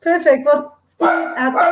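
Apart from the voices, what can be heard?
dogs barking in the background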